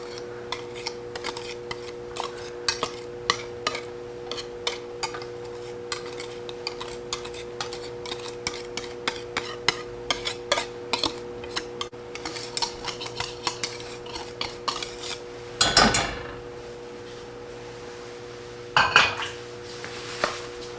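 Eggs for anday ka halwa whisked briskly in a pan over medium-high heat, with quick clinking strokes of utensil against metal throughout and a couple of louder scraping bursts near the end, no voices.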